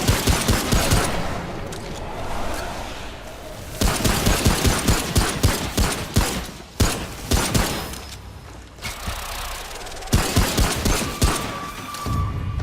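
Enemy gunfire in the video game Remnant: From Ashes crackles in dense, loud volleys, several sustained bursts of rapid shots broken by brief lulls over about twelve seconds.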